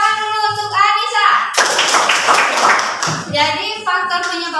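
A classroom of students claps for a classmate named Anissa, a dense burst of hand claps lasting a couple of seconds, set between stretches of a teacher's voice speaking.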